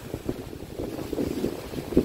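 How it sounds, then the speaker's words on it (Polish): Gusty wind buffeting the microphone with a low, uneven rumble, faint against open water on Śniardwy lake, and no voices. "naprawdę tragiczny wiatr"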